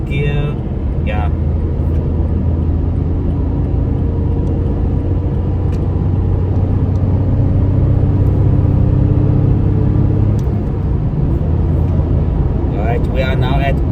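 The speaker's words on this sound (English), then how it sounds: "let's do some overtaking here. Right, let's go 4th gear" A car's engine drones low and steady while it accelerates to overtake in fourth gear on a highway near trucks, with road and wind rumble throughout and a short sound burst at the start and end.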